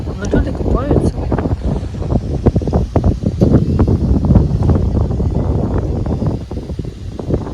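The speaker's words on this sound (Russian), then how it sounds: "Дуже холодный ветер." Cold wind gusts buffet the microphone in a constant low rumble and flutter, with voices faintly underneath.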